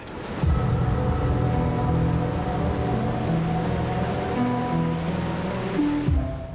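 Sea waves at Bet Dwarka wash in a continuous, fairly loud roar of surf, with steady tonal hum layered underneath and no voices.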